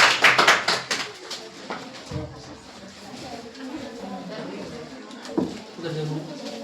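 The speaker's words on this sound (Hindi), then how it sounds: "जोरदार ताली बच्चे के लिए।" Children in a school classroom clap for a classmate, a burst of close, uneven handclaps at first that quickly thins out, then scattered taps and a teacher's voice talking.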